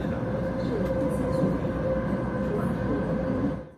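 High-speed train running on a mountain route in China, a steady loud rumbling rail roar with a constant hum, heard from aboard, fading off at the very end.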